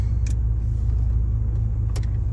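BMW Z4 cruising on a busy motorway, heard as a steady low road and engine rumble from inside the car, with a couple of faint brief clicks and no talking.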